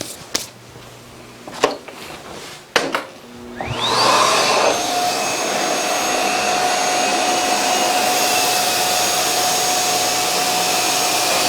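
A Miele Boost CX1 Cat & Dog vacuum cleaner switches on after a few sharp clicks and runs on carpet strewn with dirt and coffee grounds, giving a loud, steady motor whine with a high tone that holds close and constant.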